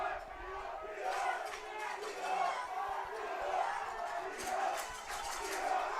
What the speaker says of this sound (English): Crowd still into it.